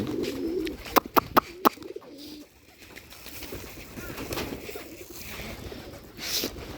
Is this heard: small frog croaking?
no